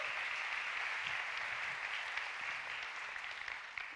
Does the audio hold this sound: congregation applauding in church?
yes